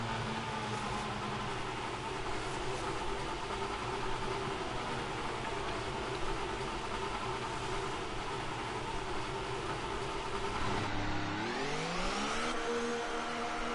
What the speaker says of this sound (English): Engine fired